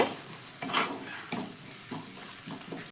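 Ground ginger and garlic paste fry with onions in a pan, a soft sizzle broken by several close stirring scrapes at an uneven rhythm, fairly quiet, with no voices.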